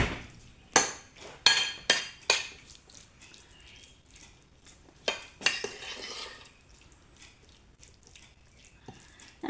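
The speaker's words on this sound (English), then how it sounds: "now we can just stir it together" Mince and cheese filling stirred together in a bowl, with a few sharp clinks and scrapes of a utensil against the bowl early on, then quieter, softer mixing sounds.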